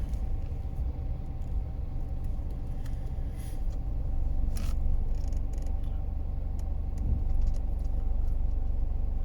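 Traffic on a main road at a traffic light, a steady low rumble of engines with cars passing at moderate distance, swelling slightly partway through, no voices.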